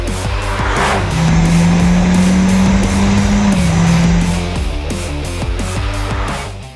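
A Toyota Supra 2.0 four-cylinder, a 2021 model, revs high and loud with a sustained rising engine tone, climbing and then easing off over several seconds, with no speech.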